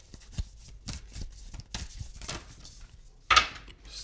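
A large stack of tarot cards being shuffled by hand, with soft irregular riffling and slapping bursts close by, plus one sharper flurry near the end.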